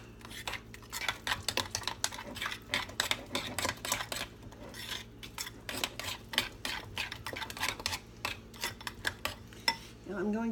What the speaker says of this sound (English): Mix that all up nice and good and gooey